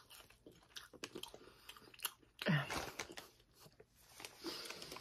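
Wendy's fries are chewed close to the microphone in soft, moist crunching bites, with one louder crisp bite partway through, set against a quiet background.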